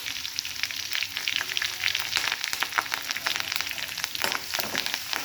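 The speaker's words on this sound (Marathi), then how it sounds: "लसूण असा आपण ब्राऊन कलर येईपर्यंत तळून घेणार आहोत" Garlic frying in hot oil with crackling mustard seeds for a cabbage stir-fry tempering, a steady close sizzle with dense bright spatter and popping throughout, no voices.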